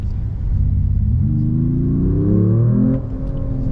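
Mercedes-Benz E 53 AMG plug-in hybrid with synthetic engine sound played through its speakers, a deep rumbling drone that swells and rises in pitch for a few seconds, then drops back.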